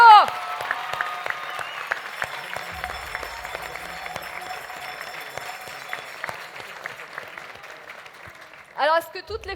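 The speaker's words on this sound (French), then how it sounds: "je pense qu'on peut les applaudir. Bravo!" An audience at a sports awards event applauds a children's guard of honour from ski clubs, a dense sustained clapping that carries on under a public-address voice, then gives way to talk near the end.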